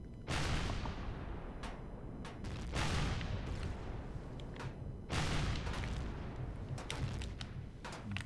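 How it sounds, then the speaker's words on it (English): Heavy gunfire and booming blasts hit the player in the video game Empyrion, loud, dense bursts that roll on in waves with sharp cracks between them, and no talking. "Quit shooting at me, jerks."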